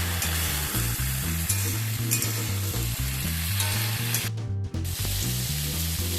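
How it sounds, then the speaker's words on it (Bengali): Potatoes and pointed gourd fry together in a pan with salt, a dense, steady sizzle running throughout, broken by brief scraping stirs. "আবারও কিছুক্ষণ সময় নিয়ে আলু আর পটলটাকে একসাথে একটু ভাজা করে নেব"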